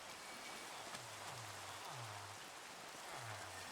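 Steady, faint rain hisses across a Minecraft village map in an even wash, with a few low humming tones drifting underneath and no talk.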